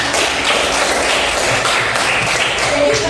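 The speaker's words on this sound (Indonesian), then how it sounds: "tepuk tangan dulu untuk" Applause from students in a classroom: dense, steady clapping from a group that lasts throughout, loud and close, with faint voices underneath.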